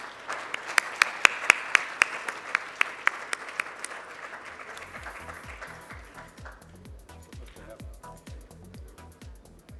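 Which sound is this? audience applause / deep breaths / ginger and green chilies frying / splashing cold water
audience applause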